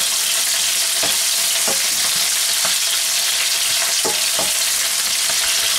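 Vegetables stir-fried in a hot pan for a stir-fried jjamppong, a loud steady sizzle with periodic sharp scrapes and tosses of the spatula, close and continuous.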